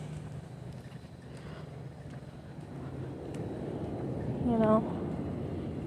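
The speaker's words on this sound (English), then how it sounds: "it's good that you guys get to hear the airplanes too" Airplanes pass overhead outside a coffee shop as a broad, distant rumble that slowly swells, while a person briefly speaks nearby.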